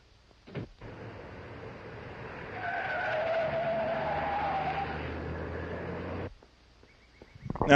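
A car in an old film serial skidding, a sustained tire squeal and engine roar rising mid-way and holding for several seconds before cutting off abruptly, with a faint rumble at the start and end.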